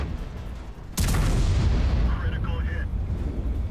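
An M103 tank's main gun fires once in World of Tanks, a sudden heavy boom with a long, rumbling decay following a quieter stretch of battle ambience.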